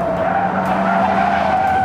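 A 1970s car's tyres squeal loudly and continuously while it drives, a steady high-pitched screech holding for the whole moment with no voices over it.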